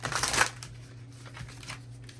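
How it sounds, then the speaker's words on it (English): A deck of tarot cards shuffled by hand close up, a brief riffling burst at the start followed by softer, scattered card rustles. "I'm gonna shuffle again."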